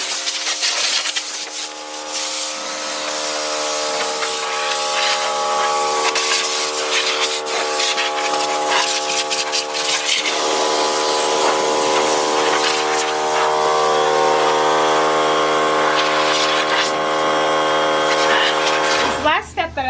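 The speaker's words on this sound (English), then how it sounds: "I like to use a microfiber cloth and compressed air to quickly dry." Compressed air blasting steadily to dry an engine after steam cleaning, a loud continuous hiss with whistling tones that runs almost unbroken before cutting off near the end.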